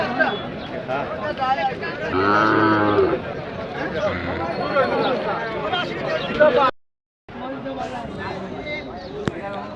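Cattle at a bustling bull market in Gohorpur bazaar, Sylhet, let out one long, loud, close moo amid steady crowd chatter and people talking nearby.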